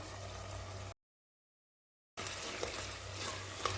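Ginger garlic paste and tomatoes sauté in a pan, giving a soft continuous sizzle and stirring that cuts out for about a second before resuming.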